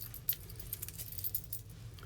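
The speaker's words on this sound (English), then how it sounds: "Let me get a pair of scissors here." Metal scissors being picked up for cutting quilt fabric squares against a template, giving a few light clinks and rattles at close range, with no talking.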